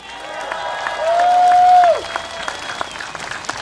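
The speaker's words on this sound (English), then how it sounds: "Once again, round of applause, please." A crowd applauds at an SDP political rally at Choa Chu Kang Stadium during Singapore's 2025 general election, with loud, steady clapping and a sustained whistle rising above it before fading.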